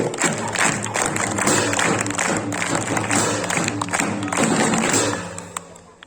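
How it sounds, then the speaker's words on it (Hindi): Students at a school Republic Day celebration clap loudly together with crowd noise and some cheering, a dense rhythmic wave that holds steady before fading away at the end. "बहुत जोरदार स्पेशल क्लैप रेडी गो।"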